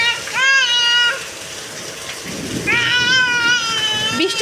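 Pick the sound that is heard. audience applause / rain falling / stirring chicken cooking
rain falling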